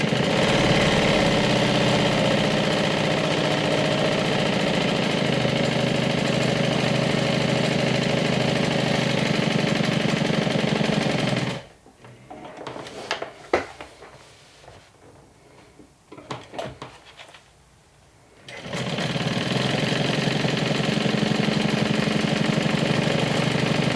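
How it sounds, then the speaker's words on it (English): Sewing machine stitching a long basting seam on a medium crossbody Joey Tote, a loud steady motor whir that cuts out midway for a few seconds of light handling noise, then runs again at full speed, with no talk. "this is just a basting stitch"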